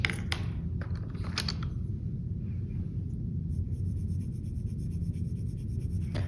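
A colored pencil rubs across paper in circular coloring strokes, a soft scratchy texture over a steady low room rumble, with a few brighter scraping bursts near the start and no talking.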